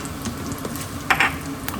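Cumin and asafoetida sizzle in hot oil for dal fry, a close, steady frying hiss with a few small crackles and one brief brighter burst partway through.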